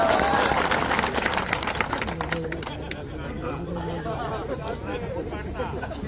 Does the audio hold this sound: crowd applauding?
yes